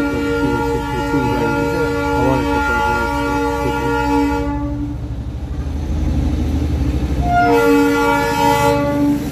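Darjeeling toy train rolling around Batasia Loop, its horn sounding a long sustained blast, dropping out briefly, then blaring again near the end over the rumble of the carriages; no one speaks.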